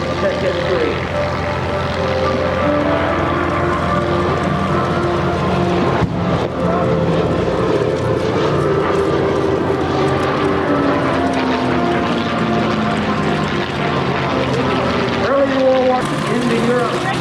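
A vintage P-51 fighter flies over the 1994 CAF air show in Frederick, Maryland, its piston engine giving a steady, loud propeller drone with shifting pitch that holds for the whole stretch.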